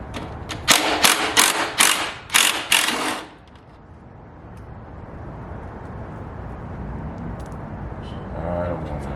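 Tool work removing bolts from a Harley-Davidson Road Glide Special motorcycle: about six rapid, close, loud ratcheting bursts in the first three seconds, then a quiet background hum.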